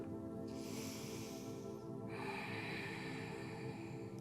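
Deep, drawn-out inhalations during a yoga practice, close and steady, two long breaths filling the clip with airy hiss and no talk.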